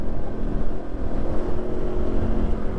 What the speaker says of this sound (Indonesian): Tuh ada bis kan